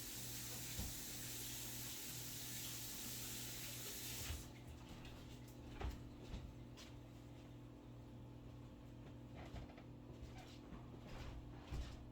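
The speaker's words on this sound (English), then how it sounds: "Let me wash my hand off and I'll grab the rest of the bigger pieces." Tap water runs steadily from a faucet as hands are washed after peeling paint and paper off a decorative wooden cutting board, a continuous hiss with occasional splashes and clunks.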